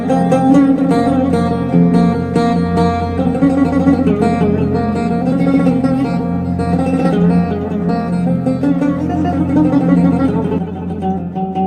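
A cümbüş, the Turkish fretless banjo-like lute, played in a busy melodic line of bright twangy plucked notes, steady and fairly loud throughout with no talk.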